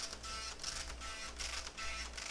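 An Epson LX-300 dot-matrix printer draws in a fresh sheet of paper with a continuous mechanical whir and rhythmic grinding pulses, close and fairly loud, and nobody speaks.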